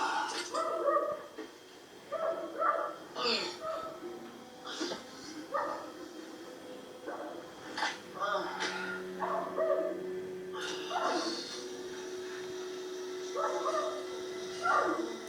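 A dog barks in short repeated bursts with yips and whimpers from a television, the barks scattered irregularly and fairly close, with people talking and a steady tone underneath.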